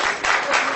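An audience claps in a brief burst of dense, moderately loud applause that swells and dips slightly.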